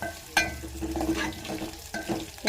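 Chopped onions with cumin and mustard seeds frying in oil in a pan, a close sizzle with a spoon stirring and scraping a couple of times over the short stretch.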